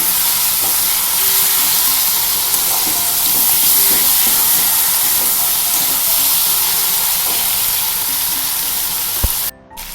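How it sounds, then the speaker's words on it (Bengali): Spices and chopped pointed gourd fry in a pan for a Bengali potoler dalna, giving a loud, steady sizzle and hiss that runs without a break. A sharp clatter comes near the end. "মশলা আর পটল একসাথে একটু ভেজে নিতে হচ্ছে, সুন্দরভাবে কষিয়ে নিতে হবে।"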